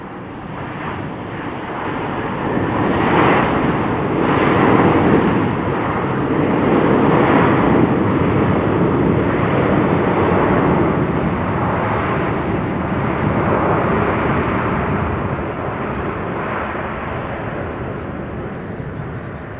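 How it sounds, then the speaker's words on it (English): An inbound Boeing 767 airliner from Louisville lands at an airport, a loud sustained jet engine roar that swells and slowly recedes, heard alone without talk. "Here's our inbound 767 from lovely Louisville. Great landing right there."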